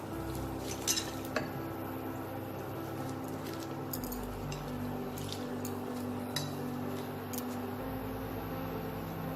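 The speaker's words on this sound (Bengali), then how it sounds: "এবার আমি এতে ধুয়ে রাখা পালং শাকের টুকরোগুলো দিয়ে দেবো" Washed spinach pieces go into lightly salted hot water in a wok, bringing soft splashes, a few metal clinks against the pan and gentle stirring, close by with no talking.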